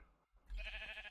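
A sheep bleats once in a video game, a loud, sustained wavering cry that fills most of the moment after a brief hush.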